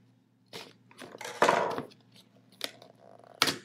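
Sealed packaging of a Flip Mino HD camera being torn and pried open, giving a few sharp crinkling, crunching bursts of plastic and cardboard close to the mic, separated by brief quiet gaps.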